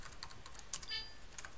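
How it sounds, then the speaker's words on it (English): Keystrokes on a computer keyboard as a command is typed into a Cisco router session, a quick uneven run of close, light clicks alone for under two seconds. "so I will type the command"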